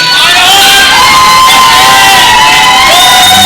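A crowd cheers and whoops steadily for a woman bench press lifter at a world championship powerlifting meet, with excited shouts rising over a continuous loud roar throughout.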